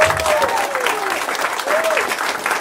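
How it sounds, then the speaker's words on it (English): A townhall audience at an investor meeting claps for gubernatorial candidate Mike Duggan, a dense, steady round of applause lasting throughout, with a brief whistle-like tone rising over it. "So another round of applause for Mr. Mike Duggan."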